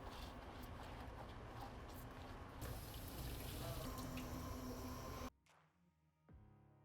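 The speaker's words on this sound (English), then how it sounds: "Then we're going to wash this off with some soapy water and then let it dry." Soapy water runs steadily over a Kawasaki KLR650 motorcycle air filter being washed, a continuous close splashing flow that stops abruptly near the end, followed by faint drips and handling noises.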